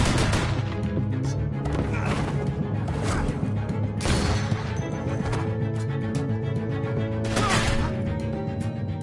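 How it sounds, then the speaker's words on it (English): Sharp gunshot bursts from The Walking Dead: A New Frontier video game crack out at irregular intervals over a dense, noisy background of rumbling and clatter. "I hear gunfire."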